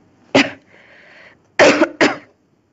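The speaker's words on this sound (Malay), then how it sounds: "mungkin nampak Ustazah terbatuk-batuk" A woman coughs up close: one sharp cough, a brief raspy breath, then two more hard coughs in quick succession, with no speech.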